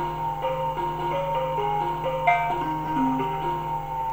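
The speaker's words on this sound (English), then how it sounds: "start the motor in duty cycle mode. And you should hear it start playing soon." An electric motor driven by a VESC controller plays a melody through its windings, a steady electronic tone stepping through a sequence of pitched notes over a constant low hum, fairly quiet and with no talking.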